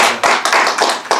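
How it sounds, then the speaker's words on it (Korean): A small audience claps at a panel debate on mobile phone distribution law, welcoming a professor: a short burst of a few sharp, close, uneven claps that overlap in quick succession. "김 교수님을 박수로 환영해주십니다."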